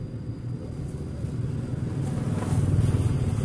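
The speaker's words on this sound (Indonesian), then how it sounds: "Pagi itu ketika sedang naik motor" A motorcycle rides along a road on an overcast morning, its engine a low, steady, fairly faint hum that grows slightly louder toward the end, with no speech.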